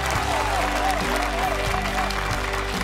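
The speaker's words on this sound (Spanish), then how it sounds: "Lo despedimos con un fuerte aplauso." A studio audience applauds to send off a contestant on a talent-show stage, the clapping sitting under steady background music with a low hum throughout.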